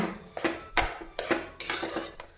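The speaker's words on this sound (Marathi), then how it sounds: "आता हे गुळ विरगळेपर्यंत हलवायचं" Jaggery is stirred in a metal pot to melt it, a spoon clinking and scraping against the sides in a quick irregular rhythm of about six sharp knocks, close and alone.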